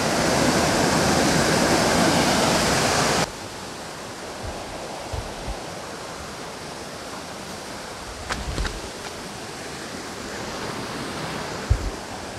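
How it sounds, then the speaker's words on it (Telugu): Irala waterfall running with low water flow, heard as a steady broadband rush that drops abruptly to a softer, even wash after a few seconds, with faint scattered knocks. "ఇదే గైస్ మొత్తానికి వాటర్ ఫాల్స్"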